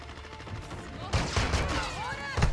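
Shotgun blasts go off in a first-person shooter video game, a few loud booming shots in close succession following quieter in-game ambience.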